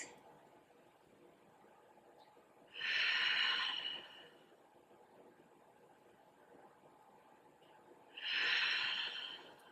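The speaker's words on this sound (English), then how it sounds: "Take 3 nice big breaths." Two deep, audible breaths, each about a second long and several seconds apart, come close up and hissing during a seated yoga twist in a quiet room.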